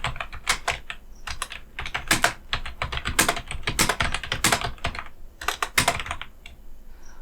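Fingers type on a computer keyboard while entering text into an MS Word list, a close, brisk run of irregular keystrokes with a few short pauses and no talk.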